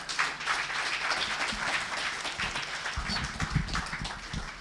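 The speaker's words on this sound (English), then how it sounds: "Please keep the applause going for our chairman as he takes the seat." An audience keeps applauding as the chairman takes his seat at an economic roundtable, a moderately quiet, continuous clapping with some low rumbling movement underneath.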